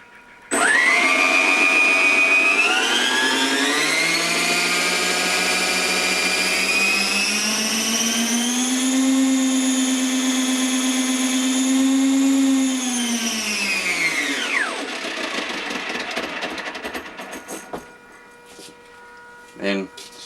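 The rotors of an RC Hughes 600ESP helicopter on a 7.4v system spin up with the throttle, a loud whine that rises in pitch, holds steady, then drops away and winds down over several seconds.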